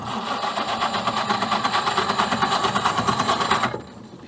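A 1925 Austin Seven engine is cranked over with a rapid, rhythmic chugging pulse for about three and a half seconds before cutting off abruptly to near quiet.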